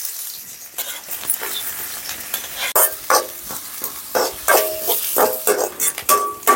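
Chopped onions fry in oil with cinnamon, cloves and cumin for an egg masala curry, a close, continuous sizzle broken by repeated scraping stir strokes, with no talking.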